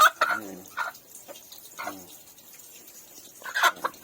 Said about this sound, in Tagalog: Saka dito mga babae na manok.